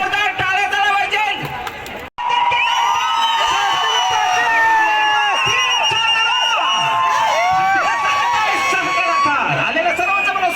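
A large outdoor crowd at the Boisar festival cheers, whoops and shouts continuously, loud and close, with a brief cutout near the start and amplified voices mixed in.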